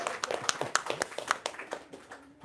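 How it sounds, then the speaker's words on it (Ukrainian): Visitors at the opening of the Paraska Plytka-Horytsvit exhibition in an art library give soft, sparse applause, with distinct separate claps that grow fewer and fade out after about two seconds. "Це час для оплесків."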